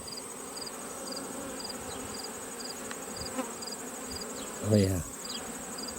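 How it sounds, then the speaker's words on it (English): Agitated honey bee hive being opened, a steady dense buzzing drone throughout, fairly faint, with one brief louder bee passing close and a short spoken remark near the end. "this hive is a little noisier, and when they're a little noisier, they're a little more agitated or easily agitated"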